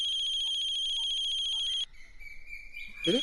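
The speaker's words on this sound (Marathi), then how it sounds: "राणाचा फोन" A phone rings with a steady electronic trilling tone for nearly two seconds, then stops, followed by quiet room noise and a brief voice.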